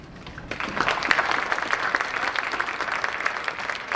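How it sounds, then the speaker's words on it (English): An audience bursts into sustained applause for the participants at a school spelling bee, starting abruptly after a brief quiet and holding steady and full. "You can give them a round of applause."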